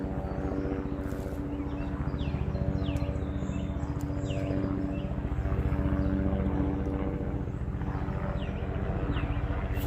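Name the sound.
helicopter flying overhead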